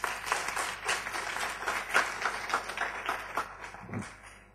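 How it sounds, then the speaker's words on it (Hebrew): Audience applause at a talk, a moderate burst of many hands clapping fairly close, steady for a few seconds and then tapering off. "מחיאות כפיים"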